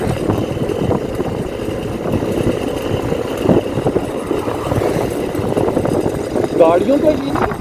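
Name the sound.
Suzuki motorcycle engine climbing mountain road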